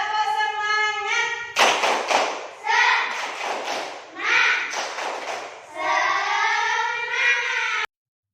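Schoolchildren in a classroom perform a rhythmic group clap chant, loud clapping bursts alternating with their chanted words in a clear repeating pattern.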